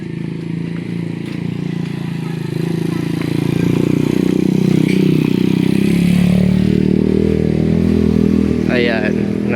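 A motorcycle engine idles and then runs steadily louder near a hillside house on a mountain, a close, continuous rumble with a brief rev toward the end.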